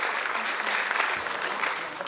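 An audience applauds at an evening show, a steady wash of clapping held at moderate level without a break.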